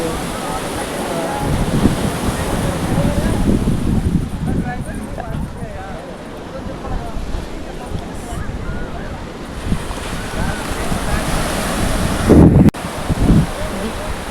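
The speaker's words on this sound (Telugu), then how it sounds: "రిషికొండ బీచ్ అనమాట" Surf rolls onto the sand at Rishikonda Beach in Vizag, a continuous broad wash roughened by gusty wind buffeting the microphone, with a sharp thump near the end.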